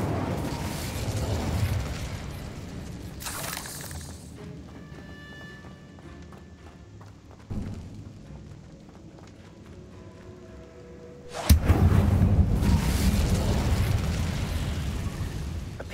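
Bombarda explosion spells cast in a dark story-driven video game: booming bursts at the start and again near the end, with a sharp crack, separated by a quieter stretch of game ambience and faint tonal effects.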